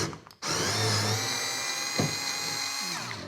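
Ryobi power drill backs a screw out of an Old Town kayak fitting, a close, loud motor whine that starts abruptly and runs steadily for about three seconds, with a brief knock partway through and a slight drop in pitch near the end.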